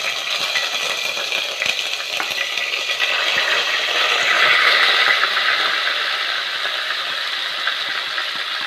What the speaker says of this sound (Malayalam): അതിലേക്ക് സവോളയും വെളുത്തുള്ളിയും ഇഞ്ചിയും കൂടിയും പേസ്റ്റാക്കി വെച്ചത് ചേർത്ത് കൊടുക്കാം.